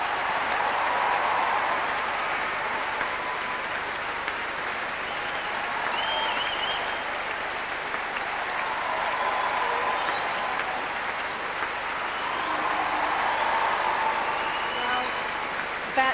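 A Proms concert audience applauds an orchestra with loud, sustained, dense clapping that fills the whole stretch, a steady roar of hands in a large hall.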